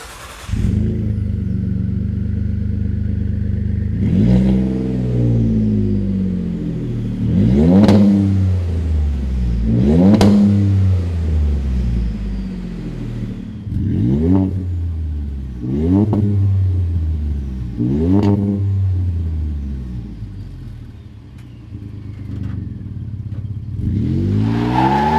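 A Ford F-150 with a 2.7L or 3.5L EcoBoost engine and an MBRP 4-inch single side-exit cat-back exhaust revs repeatedly, sharp throttle blips rising and falling over a steady idle, loud and close.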